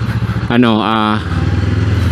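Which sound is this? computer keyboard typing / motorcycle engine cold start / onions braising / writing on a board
motorcycle engine cold start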